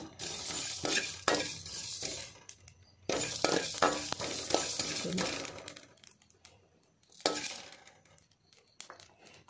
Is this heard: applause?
no